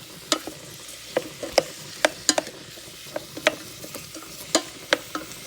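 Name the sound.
vegetables sizzling in olive oil in a pan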